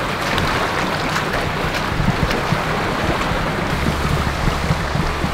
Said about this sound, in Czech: Jedete po cestě a přitom jedete potokem.